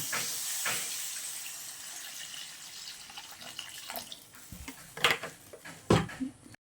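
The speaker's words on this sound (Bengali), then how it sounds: "এবার আমি জল দেব" Water is poured into a pan of mustard-poppy paste for a hilsa fish curry, a hissing splash that settles into softer bubbling with a few louder clatters and splashes toward the end, close and alone.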